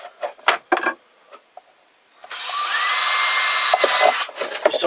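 A power drill boring holes into a bowl, preceded by handling knocks and clatter, then a steady close whine that holds for a few seconds with small bumps as the bit cuts.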